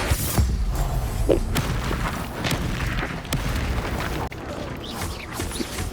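Spell blasts and booming explosions from the Bombarda spell during a wizard duel in the video game Hogwarts Legacy, several sharp impacts over a dense, loud rumbling battle bed.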